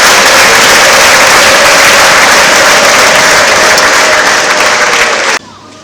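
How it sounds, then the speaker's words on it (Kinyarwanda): A church congregation gives loud, sustained applause that fills the room at a steady level, then cuts off abruptly near the end. "Amashyi menshi."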